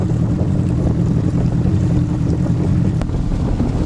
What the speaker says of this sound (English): This wind, folks, has got up to 15 and probably a gusting 20 mile an hour